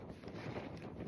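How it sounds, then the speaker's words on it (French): Strong wind buffets the microphone on the high plateaus of the Vercors, a dense, rumbling roar that fills the short clip with no voices. "Il y a énormément de vent."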